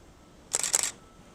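Shutter of a single-lens reflex camera firing at f/2.8 and 1/1600 s, a quick mechanical burst of a few close clicks lasting under half a second, then quiet.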